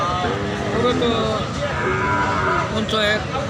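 Cattle lowing repeatedly at a busy livestock market, the moos ringing out over a dense crowd murmur while men haggle nearby.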